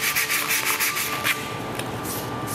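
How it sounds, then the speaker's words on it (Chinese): Steady abrasive sanding and polishing of a relief sculpture cast from a special mixed material, a continuous close rubbing hiss with slight rhythmic strokes throughout, no talk. "而用原料构图还不是最难的，作品打磨更考验耐性。"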